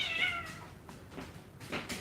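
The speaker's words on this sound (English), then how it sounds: "And that cat needs to go outside." A single cat meows indoors at close range, a short drawn-out cry near the start followed by a few softer vocal bits.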